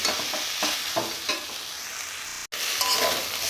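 Spice paste fries in just a little oil in a pan, a bright close sizzle broken by several scraping stirs of a spatula, with a brief cut of silence partway through.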